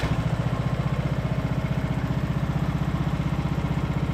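A junk lawn mower engine idles without choke, producing a close, steady, rapid chugging putter with an even, regular beat that runs unbroken throughout.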